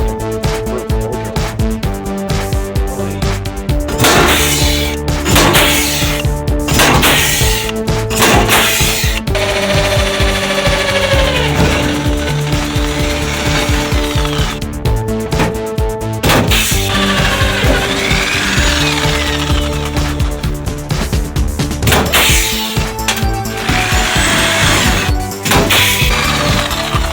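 Loud, close power-tool work on a new floor pan in a classic Bronco, with rapid rattling rivet-gun bursts and drilling noise. It runs nearly nonstop with a harsh metallic character.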